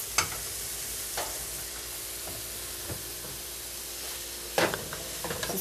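A carrot mixture goes into a pot of boiling water on the stove, giving a steady hiss and bubbling with a few sharp splashes and clinks of stirring, loudest near the end.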